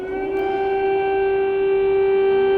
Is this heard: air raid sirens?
yes